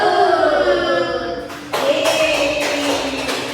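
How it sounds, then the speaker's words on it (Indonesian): A fourth-grade class chants 'tepuk salut' together, voices first, then a burst of rhythmic group clapping starts partway through and keeps going under the chanting. "Yuk kita sama-sama tepuk salut."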